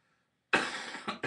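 A man who is sick gives a sudden harsh cough, loud and close, then a second shorter cough and a third that is cut short, all after a moment of silence.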